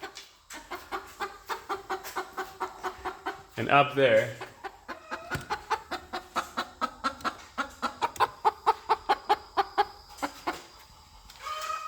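Chickens cluck in a steady, rhythmic series of short calls close by, with a louder squawk partway through and a person speaking briefly.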